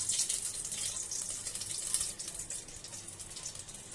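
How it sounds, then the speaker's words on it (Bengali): About a cup of water is poured into a cooking pan holding fried bay leaf for a potato ghati dish, a steady rushing splash for roughly two seconds that then eases off. "কাপ পরিমাণ পানি দিয়ে দিলাম"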